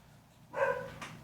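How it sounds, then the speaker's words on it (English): A single dog bark, fairly faint and somewhat distant, with a short second yelp right after it over a quiet indoor background. "And now the dog barks because I need more going on, right?"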